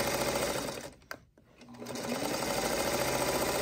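A sewing machine stitches quilt block segments with a steady rapid whirring hum, close up. It stops briefly in the middle, then starts again and runs on.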